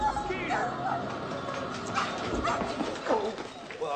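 A dog yips, whimpers and gives short barks under overlapping speech, the sounds fairly close and broken up across a few seconds of mixed voices and background noise.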